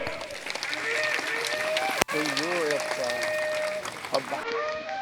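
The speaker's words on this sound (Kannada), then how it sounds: "ತಮ್ಮೆಲ್ಲರ ಜೋರಾದ ಚಪ್ಪಾಳೆ ಕಾರ್ಯಕ್ರಮಕ್ಕೆ ಸಾಕ್ಷೀಕರಿಸುವಂತಾಗಲಿ" Loud applause from a crowd at a Kannada award ceremony during a temple fair fills the space as a continuous clapping roar, while someone speaks over it through a microphone.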